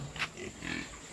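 F1 wild boar hybrid pigs grunt in a crowded pen, giving a few close, moderately loud snorts and grunts over steady farmyard background noise, with no talking.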